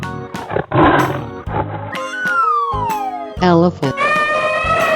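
A tiger's roar in a 3D animal slide game, sounding as a loud, sweeping cry mixed with cartoonish game effects and other animal calls, filling the short clip.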